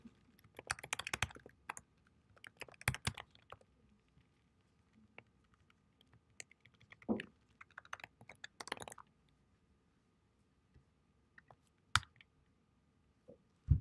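Computer keyboard typing in bursts of quick, close key clicks separated by pauses, with occasional single louder taps, alone without talk.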